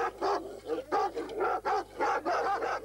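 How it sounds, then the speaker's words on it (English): Two guard dogs bark repeatedly in a quick, steady series of loud, close barks with brief gaps between them. "Except for two guard dogs charged with deterring intruders."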